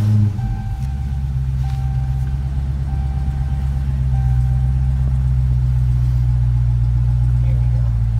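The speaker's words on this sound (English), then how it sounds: "We're gonna turn on the car now." A 2017 Dodge Charger SRT Hellcat V8 starts up and settles into a deep, steady, rumbling idle close by, with a voice speaking over the engine.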